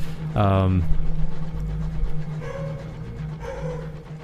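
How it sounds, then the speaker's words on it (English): A dog barks nearby in a single sharp, loud yelp, followed by faint further whimpers and barks under a person talking. "There's just like this maddening dog barking scenario happening"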